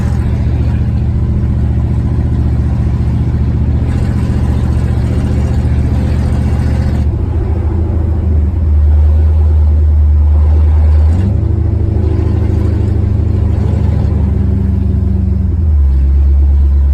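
A 1968 Lincoln Continental with Holley Sniper EFI driving along, its engine a loud, steady low rumble that shifts pitch as the gears change, heard up close from inside with no talking.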